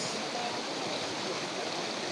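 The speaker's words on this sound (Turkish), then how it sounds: "ırmak kenarındayız, dere kenarındayız." A clean stream rushes steadily about 300 metres above the Hacılı village waterfall, a broad constant wash of flowing water heard up close and alone, with no pauses.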